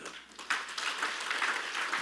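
A church congregation breaks into applause during a worship service, the clapping faint and distant, starting softly and then holding steady for a couple of seconds.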